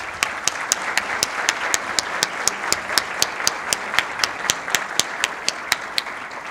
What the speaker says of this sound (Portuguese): Peço uma salva de palmas para ele.